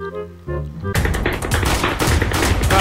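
Rapid, dense gunfire in a Roblox game bursts in loudly after about a second of soft tonal sound, then keeps going as continuous overlapping shots to the end.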